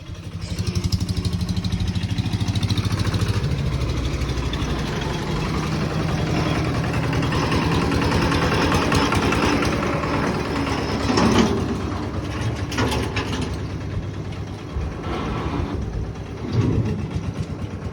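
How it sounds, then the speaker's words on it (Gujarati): A diesel tractor engine idles steadily and loudly close by with a constant low rumble and rapid chugging pulse, revving slightly now and then, while crates wait to be loaded. "ટ્રેક્ટર આવી ગયું છે કેરેટ ભરવાના"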